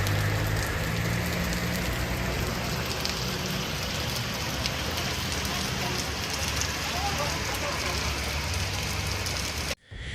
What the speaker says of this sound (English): Heavy rain in Kanagawa Prefecture due to Typhoon number 10 may last for a long time